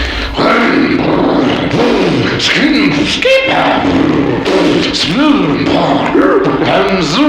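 A voice imitates a go-kart engine warming up, sputtering and growling with rough revving bursts and rising pitch sweeps, loud and close.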